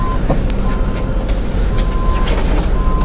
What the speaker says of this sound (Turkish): Burası uluslararası bir otobüs.